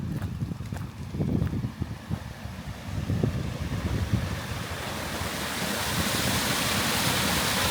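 The river in Bushy Park rushes in a broad, steady roar of flowing water mixed with gusting wind buffeting the microphone, growing fuller and louder toward the end, with no speech.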